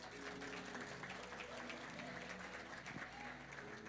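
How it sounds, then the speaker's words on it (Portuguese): Church congregation applauding during a sermon, continuous dense clapping heard quietly from a distance, steady for several seconds with a faint murmur underneath. "Aplauda o Senhor por essa palavra."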